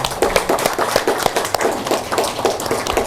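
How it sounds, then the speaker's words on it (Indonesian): An audience claps for Nusantara at a gathering on Indonesian martial arts and heritage, with dense, uneven applause sustained at moderate loudness through the whole stretch. "Itu tepuk tangan untuk Nusantara ya"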